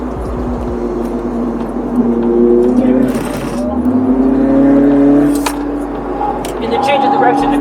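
A Mini GP race car laps Lime Rock race track, its engine heard from onboard, loud and close, with revs climbing and falling through gear changes and a low steady drone underneath.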